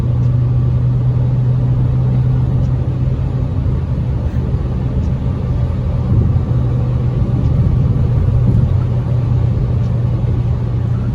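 Inside the cabin of a 2022 Fiat Cronos 1.3 Drive on the move, the engine keeps up a deep, steady droning hum with faint road rumble, unbroken and close, and no voices.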